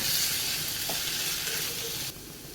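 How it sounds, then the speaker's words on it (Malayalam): Finely chopped tomato sautéing with onions in a pan for rajma masala, a bright close sizzle with a few stirring scrapes before it drops suddenly quieter. "നമ്മുടെ തക്കാളിയൊക്കെ വഴണ്ട് വരുന്നുണ്ട്."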